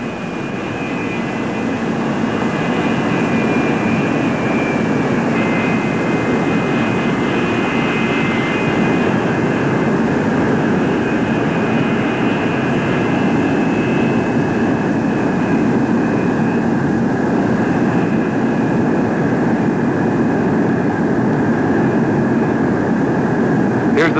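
A USAF F-102 jet aircraft lands with its typical high angle of attack, giving a loud, continuous jet engine roar and a steady whine that holds throughout without a break.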